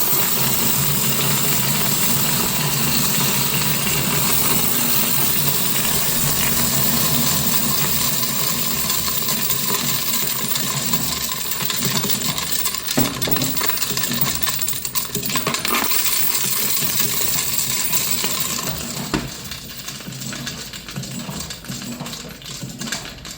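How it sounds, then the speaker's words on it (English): Loose coins pour and rattle continuously through a bank's coin counting machine, a dense metallic clatter under a steady mechanical whir that thins out near the end. "I am at the coin machine. Let's go ahead and dump"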